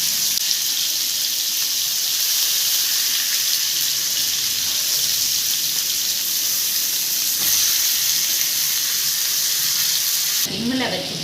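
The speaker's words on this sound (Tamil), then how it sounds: "பாருங்கள், நான் திருப்பி போட்டு வேக வச்சுக்கிட்டு இருக்கேன்" Tandoori chicken pieces sizzle in a pan after being turned over, a steady loud frying hiss running throughout with a brief clatter near the end.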